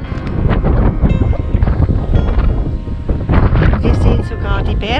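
A strong wind at Golden Bay, New Zealand, after a night of heavy rain, roars and buffets the microphone loudly and continuously, with people talking over it.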